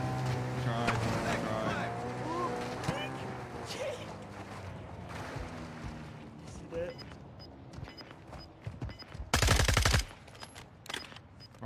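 Gunfire in a video game amid engine and water noise, with one sharp loud burst of shots near the end standing out; a voice talks through the earlier part.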